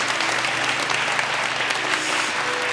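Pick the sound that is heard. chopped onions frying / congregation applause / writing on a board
congregation applause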